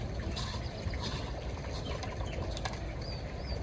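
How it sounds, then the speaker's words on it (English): Water from a pool pump's return jet trickles and splashes steadily back into a backyard swimming pool, a continuous close wash of running water with no talking. "The water goes back into the pool"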